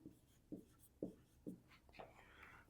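A pen writes on paper during a Class 9 geometry lesson: several quiet, evenly spaced scratching strokes about half a second apart, faint and close, followed by a softer brushing scrawl near the end.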